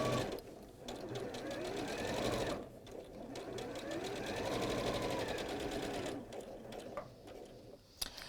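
A sewing machine runs steadily while stitching on a pair of back pockets, a fast mechanical chatter that pauses briefly twice before restarting, with a voice talking over much of it.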